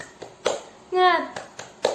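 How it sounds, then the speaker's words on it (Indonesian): Children perform a rhythmic classroom clapping chant for a fifth-grade lesson: sharp spaced claps interleaved with a loud shouted group voice in the middle, the claps following a steady chant beat. "Yuk kita lakukan bersama-sama. Tepuk semangat."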